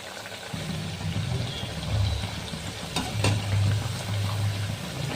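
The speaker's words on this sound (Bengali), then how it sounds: "কম আঁচে এটি ভাজতে হবে, তাহলে ভেতরেও ভালো সেদ্ধ হবে আর এই ঠেকুয়াটি ভালো ভাজা হবে" Thekua dough frying in hot oil over low heat, a continuous close sizzle and crackle over a low steady hum, with no talking.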